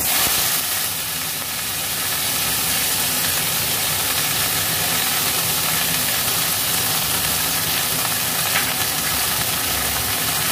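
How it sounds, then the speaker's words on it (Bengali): Ridge gourd, potato and drumstick stems fry in hot oil with panch phoron spices, giving a continuous, close, bright sizzling hiss that stays even from start to finish. "পাঁচফোড়ন দেব, ঝিঙে আলু ডাঁটা দিয়ে দেবো।"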